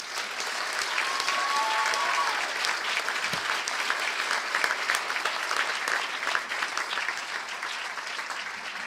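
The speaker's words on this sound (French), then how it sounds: "encore une fois, une bonne main d'applaudissement pour ces personnes diplômées qui viennent d'être reconnues, honorées" Applause for graduates at a university degree ceremony in Gatineau, with a large crowd clapping steadily at an even level that holds for the full stretch.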